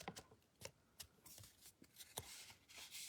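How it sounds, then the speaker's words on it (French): Paper being creased by hand while making a card, with a series of soft dry rubbing and crackling strokes, close and quiet, and no voices. "Je peux marquer ce pli ici si je veux."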